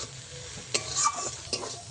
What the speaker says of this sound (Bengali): এই যে মশলা থেকে তেল ছাড়তে শুরু করে দিয়েছে, আরও সামান্য একটু ভেজে নেব